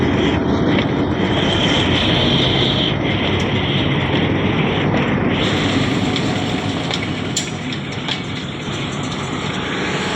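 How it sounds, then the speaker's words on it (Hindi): Pakistani locomotive 8311 with a train of seven coaches rumbles at Taxila railway station in a broad, steady engine roar and rail noise, fairly loud and continuous for about ten seconds, with no voices. "ये 8311 इस ट्रेन को हवेलिया से रावलपिंडी तक लीड करेगा"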